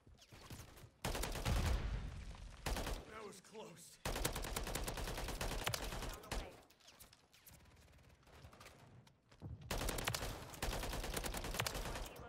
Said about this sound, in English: Hurry up and reload. Gotta get back into that gunfight.